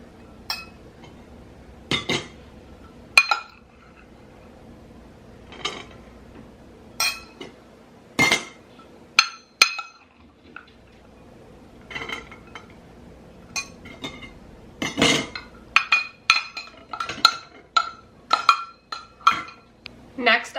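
Cooked navy beans spooned into glass canning jars, giving a scattered series of light clinks and taps of a spoon on glass at close range, with quiet gaps between the hits.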